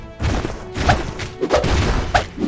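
Heavy side punch impacts from the mobile RPG Tower of God: New World, a string of loud crashing thuds and whacks landing in quick irregular succession over a dense, busy game soundscape.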